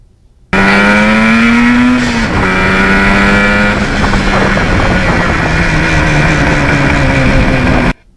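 A Yamaha RD400 two-stroke motorcycle accelerates up through the gears on a ride, its loud, close engine note rising in pitch and then dropping at each shift, with steady wind rush throughout.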